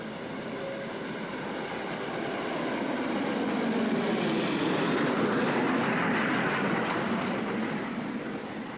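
An Indian Railways freight train on a mountain line rolls past, pushed by a locomotive at the rear. A broad, steady rumble swells and then eases slightly, moderately distant, with no voices.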